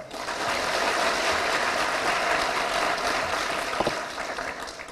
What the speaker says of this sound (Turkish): Alkışlar kardeşler.